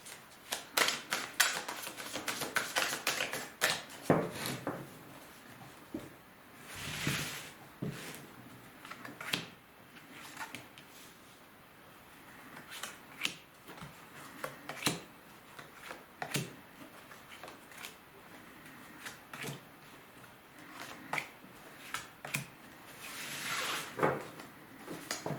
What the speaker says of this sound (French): Allez, on va prendre 9 cartes.